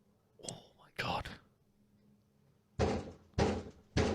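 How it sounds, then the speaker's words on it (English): Three heavy knocks land on a door in a hallway past midnight, loud and evenly spaced about half a second apart, after a short stretch of whispered talk and a thud. "That's someone knocking on the door."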